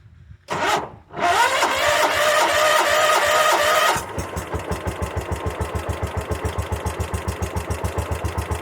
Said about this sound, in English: It fired right off! This is where the John Deere 140 is going to be sitting for a while.